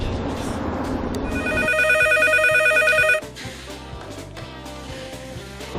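A telephone rings during a call, a steady repeating electronic ring pattern with a bright tonal chime, fairly loud and close, heard without any talk.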